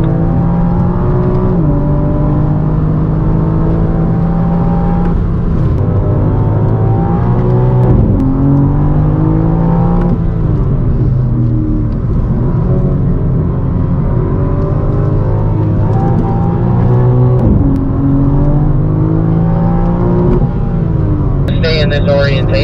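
Loud straight-piped BMW M4 F82 exhaust roaring under full throttle on a race track, rising engine pitch through repeated gear changes with brief drops between shifts, continuous and close.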